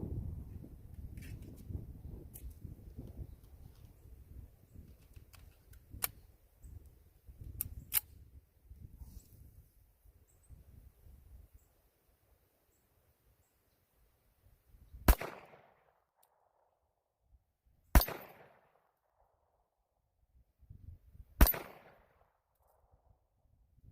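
A CMP 1911 pistol is fired at a hostage target. Three loud, sharp shots ring out several seconds apart, each with a brief echo, after softer rustling and handling noise at the start.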